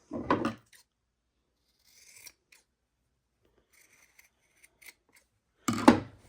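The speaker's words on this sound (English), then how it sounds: "You can trim this down if it's like more than 1/4 of an inch. Trim off the corner." Scissors snip through the corner of a fabric seam allowance while sewing a soup bowl cozy, two close, crisp cuts at the start and end with faint rustling of cloth between them.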